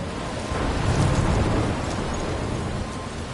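A thunderstorm in the video game Life is Strange, with a loud continuous roar of rain and rumbling that swells early, then holds steady, with nobody talking.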